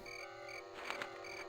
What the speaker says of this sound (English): I hear crickets, of course.